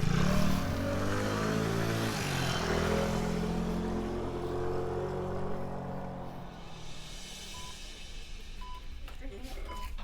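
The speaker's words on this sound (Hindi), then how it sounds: "डॉक्टर तानी को अपने स्कूटर पर बैठाकर हॉस्पिटल की ओर चल दिया" A scooter engine revs up and fades away as the rider pulls off, followed by faint electronic beeps, set in a dramatized horror story.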